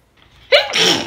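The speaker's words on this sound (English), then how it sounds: "Your girl been sneezing." A single close sneeze: a short breathy intake followed by a sharp, loud burst and a trailing hiss.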